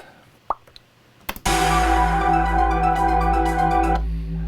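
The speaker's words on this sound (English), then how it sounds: "it's just the first bassline preset from, what is it, Korg R3" A few soft clicks, then a loud, buzzy bassline preset from a Korg R3 synthesizer sustains for a couple of seconds before cutting off abruptly.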